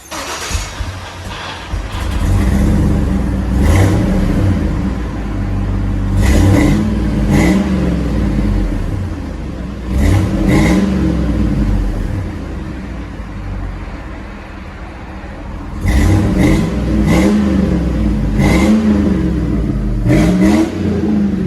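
A Chevy Suburban's 5.3L V8 revs through dual exhaust on straight pipes or Flowmaster Delta 40 mufflers, with repeated loud throttle blips that rise and fall and short pauses between the bursts.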